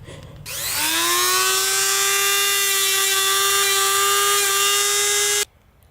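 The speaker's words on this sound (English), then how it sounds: "I'm going to use my rotary tool to get the splinters out of these holes" A handheld rotary tool spins up and holds a steady, loud high-pitched whine for about five seconds while clearing splinters from drilled holes in wood, then cuts off abruptly.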